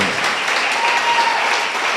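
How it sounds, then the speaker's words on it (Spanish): Full, sustained applause fills a Spanish-language church service, a dense and even roar of clapping from the congregation with faint voices beneath it. "Denle un fuerte aplauso a nuestro Dios eterno, poderoso"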